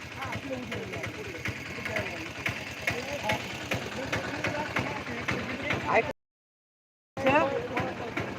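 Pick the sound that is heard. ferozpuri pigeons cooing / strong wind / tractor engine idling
tractor engine idling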